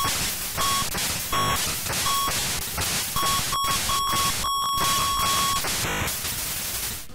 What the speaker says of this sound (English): cruising along to the beeps and squeals of the NES's sound chip, sounding like it's typing out Morse code